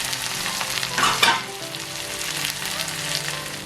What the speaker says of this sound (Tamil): ஒரு 3 நிமிஷம் வெங்காயம் வடிவாக பொரிஞ்சு தாளிச்சிட்டுது